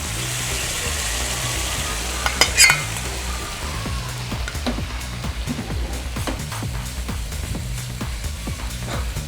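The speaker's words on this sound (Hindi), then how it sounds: "इसको मैं अब तड़का अलहदा से लगा के आपको दिखाती हूँ" Spices temper in hot oil, sizzling and crackling steadily, with a few bright metallic clinks of a utensil against the pan and occasional stirring; no voices.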